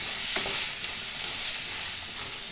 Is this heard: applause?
no